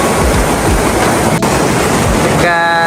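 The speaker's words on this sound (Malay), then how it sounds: "Air yang laju kat sini" Fast-flowing river rapids at Pasir Putih Resort in Kalumpang give a loud, steady rush of water that fills the whole clip without a break.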